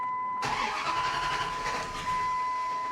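The engine of a 1919 Dodge Ram truck cranks as someone tries to start it, kicking in abruptly with a loud, steady mechanical churn and whine that carries on close by without a clear catch.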